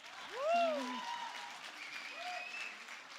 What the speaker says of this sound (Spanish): Un aplauso para el Jordi